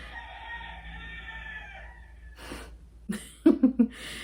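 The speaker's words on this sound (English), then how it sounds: "We don't have roosters, we don't have the chickens, but my neighbors do." A neighbor's rooster crows at a distance over a low background hum, followed by a few short, sharper calls near the end.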